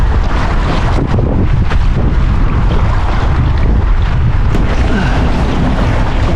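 Strong wind roars steadily across an open lake, buffeting the microphone with a loud, continuous low rumble and gusty hiss that never lets up, with no voices over it.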